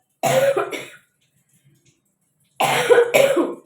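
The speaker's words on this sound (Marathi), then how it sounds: "सॉरी खोकला येतोय मला" A person gives two loud, close coughs, each a short burst followed by a brief rasp, separated by about a second and a half of silence.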